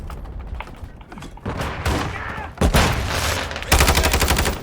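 Continuous gunfire in the video game Call of Duty Modern Warfare 2: dense, loud automatic bursts and heavy thumps packed together, ending in a rapid, even rattle of fire.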